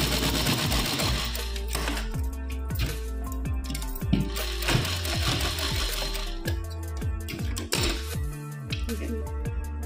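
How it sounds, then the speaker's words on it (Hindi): A sewing machine runs in steady bursts, stitching a straight seam on fabric for a small devotional cap. Its rapid mechanical whirring is close and fairly loud, with brief pauses and small clicks between runs. "और इस पर एक सीधी सिलाई लगा लेंगे।"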